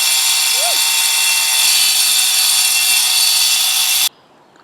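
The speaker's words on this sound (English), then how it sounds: "is drilling into my bike right now" A power drill bores into a bicycle with a loud, steady, high-pitched whir for about four seconds, then stops abruptly.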